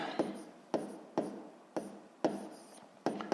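Pen or chalk strokes writing a maths equation by hand, six short scratchy bursts at a steady rhythm, close and fairly quiet with no talk over them.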